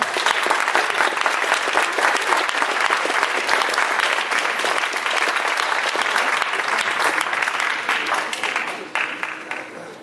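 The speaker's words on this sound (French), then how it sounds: "Un tonnerre d'applaudissements pour le ballet de Karenor" A gala audience gives a long, dense round of applause for a dance studio's ballet troupe, loud continuous clapping from a large crowd that holds steady for about nine seconds before thinning out.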